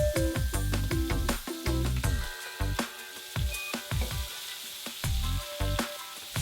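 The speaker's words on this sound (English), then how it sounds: "So you need to fry the sambal until it is fragrant" Nyonya-style Malaysian sambal, a blended chilli paste, fries in a pan with a busy, crackling sizzle, broken by scraping stirs and short spatters throughout.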